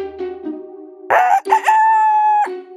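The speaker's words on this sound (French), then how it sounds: "En la voyant, le coq se mit à chanter." A loud, close rooster crow in a children's cartoon rings out on its own, a long drawn-out cock-a-doodle-doo with a clear rising call.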